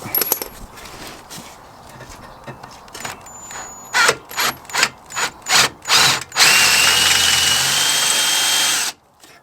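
A power drill whirs in several short bursts while drilling during a Vauxhall Corsa VXR intercooler install, then runs in one long continuous high-pitched whine before cutting off abruptly.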